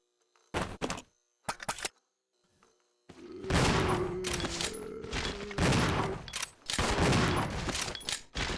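Gunfire in the video game Resident Evil Zero: a few sharp separate shots at first, then after a short pause a loud, dense run of repeated blasts with brief gaps, no talk over it.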